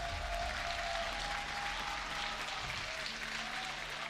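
Steady applause fills an esports arena crowd before a G2 eSports versus Splyce League of Legends EU LCS match, a dense sustained clapping heard from a distance at low level.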